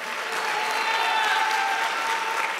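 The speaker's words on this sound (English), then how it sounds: "If you believe it, clap your hands and give God." A church congregation claps hands together, a dense, steady burst of applause from many people filling the room at even loudness.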